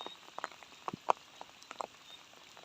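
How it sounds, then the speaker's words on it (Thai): Rain falls late at night at a riverside fishing spot, heard as faint, scattered drops tapping on nearby surfaces with quiet gaps between them. "ฝนตกบ่เศร้าเลยครับพี่น้อง"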